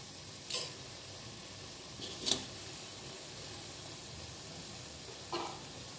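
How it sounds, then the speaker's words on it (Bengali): Thankuni-like greens, tharkol or ghetkol leaves ground to a paste with a pinch of turmeric, stirred in a pan: a faint, steady low sizzle with a few soft scrapes of the spoon. "সামান্য একটু হলুদ দিলাম। নাড়াচাড়া করে নেব।"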